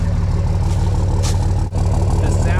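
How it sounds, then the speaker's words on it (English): A Dodge Ram 2500 5.9 Cummins diesel with a 4-inch MBRP exhaust gives a deep, steady rumble that throbs with a low exhaust note, continuous and close, with a brief dip partway through. "The sound of this 4-inch MBRP exhaust is just absolutely awesome"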